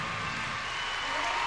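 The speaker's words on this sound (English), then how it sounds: "huge ovation from the English crowd" A largely English crowd gives a sustained, loud ovation at the 2002 Commonwealth Games women's individual all-around gymnastics final, with steady applause and cheering filling the arena throughout.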